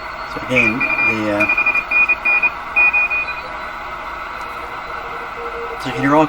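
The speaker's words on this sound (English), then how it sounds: "you can hear all kinds of Morse code here. I've got it tuned to one spot, and we're hearing lots of different Morse code" Morse code tones received on a Hallicrafters S-38 four-band tube radio, with thin steady beeping keyed in short bursts over a hissy, crackling band, with a voice speaking at the start and end.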